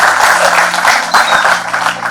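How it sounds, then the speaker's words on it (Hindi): Seminar audience in Bhopal breaks into loud, sustained applause to welcome a speaker, a dense wash of many hands clapping at once with no talk over it. "जोरदार तालियों के साथ उनका स्वागत करें।"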